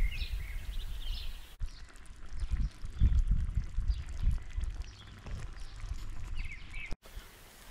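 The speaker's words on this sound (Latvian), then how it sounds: "ļaujam viņam minūtes 20, 25, lai viņš šādi te burbuļās." Chicken plov in a kazan simmers over the heat, giving steady, close bubbling and gurgling with low popping bursts that continue throughout, with no voices.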